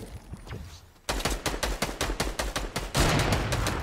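Rapid gunfire in a first-person shooter game, a quick run of loud, evenly spaced shots ending in a sustained burst of noise, with no talking.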